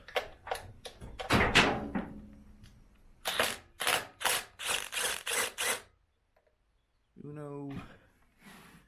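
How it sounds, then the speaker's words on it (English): A DeWalt impact driver with a 5/16 socket removing bolts on a Craftsman engine, a series of sharp rattling bursts in quick succession, close and loud, then a pause and a short whirring spin. "Start zipping these bolts off."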